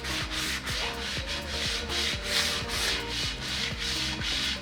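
A cloth rubs coating onto an off-road wheel in brisk, regular back-and-forth strokes, a close, even swishing with rhythmic pulses and no speech.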